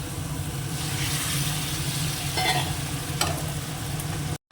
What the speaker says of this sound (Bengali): তেলটা গরম হয়ে গেছে শুকনো লঙ্কা দিয়ে দিলাম অল্প জিরে